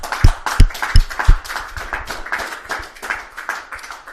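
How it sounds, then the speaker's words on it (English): A small audience claps for both players after an English Championships final, a few sharp separate claps at first, then spreading into a looser patter of applause that fades toward the end. "a round of applause for both players"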